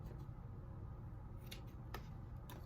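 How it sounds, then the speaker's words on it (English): Scissors trim the fur on an Easter bunny egg decoration: three quick, faint snips over a soft, steady background hiss. "So I'm just gonna go ahead and trim it all up."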